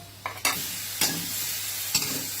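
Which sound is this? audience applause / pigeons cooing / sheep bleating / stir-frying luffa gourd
stir-frying luffa gourd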